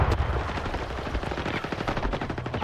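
Rapid automatic gunfire from STALKER 2, a dense run of close, loud shots in quick bursts that keeps going without pause.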